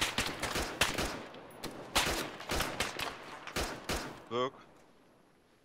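Rapid bursts of ArmA 3 gunfire, loud and close, firing in quick volleys before cutting off; a short voice chirps near the end.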